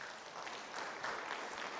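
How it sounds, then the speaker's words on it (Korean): A congregation at a Won Buddhist dharma service applauds, a steady wash of hand clapping that holds at an even level throughout and sounds moderately distant and soft. "건강하시라고 감사하다고 박수 한번 쳐주십시오."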